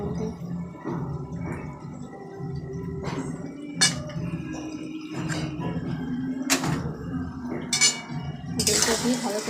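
Yogurt stirred into chicken biryani meat in a cooking pot, heard as scattered metallic clinks and scrapes of a utensil against the pot, with a person talking throughout.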